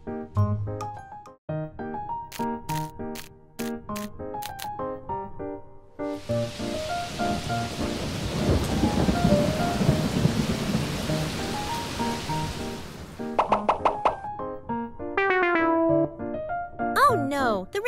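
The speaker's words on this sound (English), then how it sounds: "the rain makes my carrots overwatered" Rain and thunder: a rushing burst of steady rainfall with low rumbling thunder swells for several seconds, set between cheerful music tones and a child-like voice.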